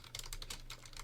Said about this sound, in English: Oh, he's typing something.